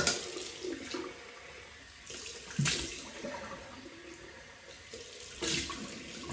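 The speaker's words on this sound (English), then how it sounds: "Cold water rinse." Water running from a bathroom sink tap for a cold rinse during a wet shave, splashing and gushing in uneven bursts that swell and fade as the flow is interrupted, close by and with no talking.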